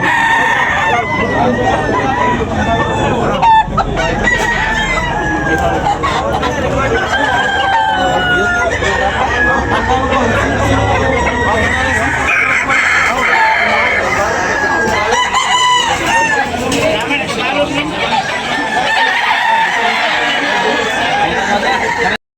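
Roosters crow loudly and repeatedly at a Sunday morning chicken auction market in Tabunok, with overlapping calls and clucking above a steady background of crowd chatter.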